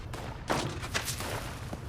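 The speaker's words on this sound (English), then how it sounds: "launch the first set of fireworks to start the race" Fireworks launched in the video game Fallout 76 pop and crackle faintly in a few short bursts.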